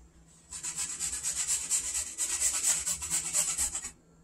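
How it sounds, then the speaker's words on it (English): Fresh turmeric root rubbed against a grater for a Haitian-style ginger roast chicken, a steady rhythmic scraping of short repeated strokes lasting about three seconds, close and clear with no talking. "I'm gonna grind a little piece of turmeric in there because that helps me with the color."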